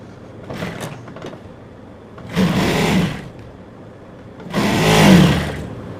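A sewing machine stitches trouser front and back pieces together in two short, loud whirring runs separated by a quiet pause.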